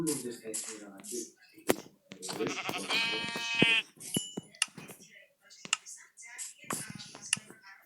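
Sheep in the Minecraft video game bleat in a drawn-out, wavering call at mid-clip, with short clicks and taps from gameplay and a person talking before and after.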